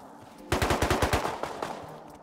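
Rapid automatic gunfire in the survival game Rust, a burst of about a dozen sharp shots in quick rhythm followed by a few scattered slower shots, fairly close and loud, no talk.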